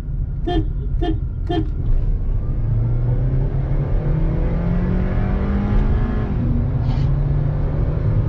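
Honda Civic FD6 and an automatic Renault Clio 1.0 TCe racing, with loud engine drone and rising revs throughout, a few short horn toots near the start and a faint gear change later on.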